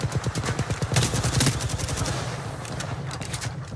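Sustained rapid automatic gunfire in the Apex Legends video game, loud and close, easing slightly toward the end.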